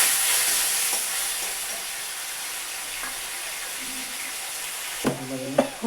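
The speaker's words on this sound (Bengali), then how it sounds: "জিরে বাটা, আদা বাটা, লঙ্কা বাটা সমস্ত মশলা দিয়ে আমি এখানে মশলাটাকে এখন ফ্রাই করছি" A paste of ground cumin, ginger and chili frying in a pan, giving a soft continuous sizzle and hiss with occasional stirring knocks, ending in a few sharper clatters.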